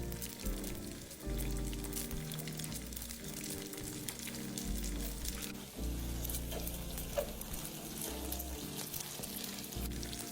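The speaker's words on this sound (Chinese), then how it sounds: "油热后转小火，放入馄饨，待定型后再稍作翻动。" Frozen wontons frying in hot oil over low heat, a faint steady sizzle and crackle like light rain that continues throughout, with soft background music underneath.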